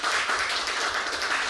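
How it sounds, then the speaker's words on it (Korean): Audience applause greets a university electrical engineering professor introduced as chair of a panel at an energy-transition strategy forum: dense, steady clapping from a seated crowd, fairly soft and even throughout with no voices over it. "큰 박수로 맞아 주십시오"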